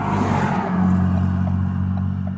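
Brand-new 1.0 turbo engine of a Ford Focus mk3 with a fault, revving briefly near the car then settling into a steady low hum, close and fairly loud, with no talk.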